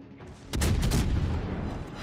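Heavy naval gun salvo in World of Warships Legends on PS4, a loud booming blast that rises suddenly partway through and rolls on with sustained rumbling for over a second before easing slightly.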